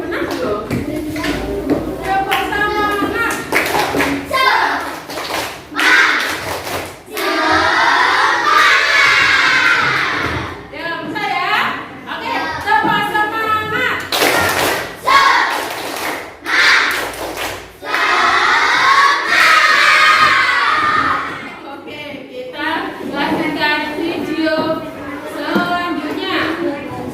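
Fourth-grade schoolchildren in a classroom perform a rhythmic clapping chant, with loud group chanting and bursts of synchronized claps in repeated patterns, and shouting voices blending into the rhythm throughout.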